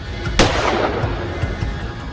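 A single sharp gunshot from a handgun in a Hindi film scene cracks out loud and close, then leaves a rumbling tail and a noisy background with a few faint knocks.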